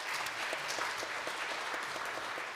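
A church congregation claps warmly and steadily for a couple of seconds at an award presentation, the applause dense and even throughout.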